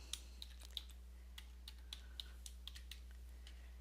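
Fingers tap a Google password on a computer keyboard in a quick, irregular run of soft clicks at close range, with a low steady hum running underneath.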